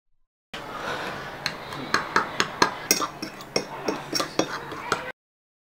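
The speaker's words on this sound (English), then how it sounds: "I'm just mixing in the seasoning really good with the flour" A utensil scrapes and clinks against a plate, mixing garlic salt and pepper into flour for fried tilapia, with a run of sharp, close taps and scrapes coming in irregular bursts.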